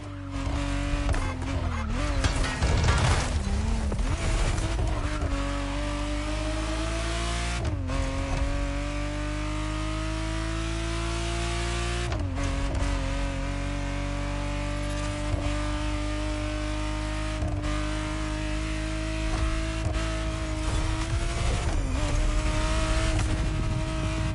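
A 1991 Ferrari Testarossa engine revving in The Crew Motorfest, its loud, steady engine tone climbing and then dropping back again and again through repeated gear shifts.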